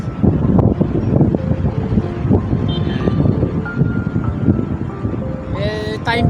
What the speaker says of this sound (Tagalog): Pasilip ko muna to sa inyo kasi malakas yung hangin.